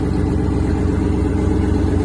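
A modified 700+ horsepower turbocharged Camaro engine runs steadily at a loud, close idle with a deep, continuous rumble and no talking.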